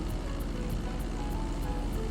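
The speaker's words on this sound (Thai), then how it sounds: "ขับเครื่องบินเล่นคลิปนี้" A fixed-wing airplane flies in GTA Online, its steady engine drone and propeller hum holding even and loud throughout, with faint periodic ticks high above and no talk.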